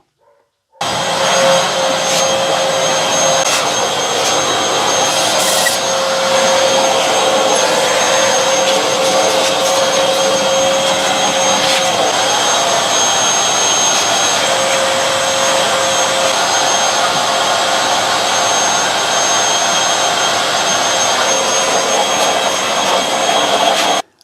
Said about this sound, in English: I've given this a good vacuum out now, just using my normal shop vac